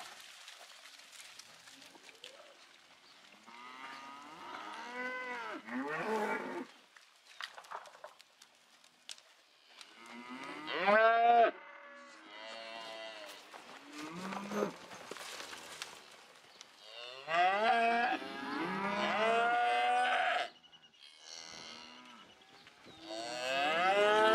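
Cattle moo repeatedly, loud and near, in drawn-out calls across the scene while a Colorado horse works a cow; faint hoof clops and footsteps sit underneath, with no talking.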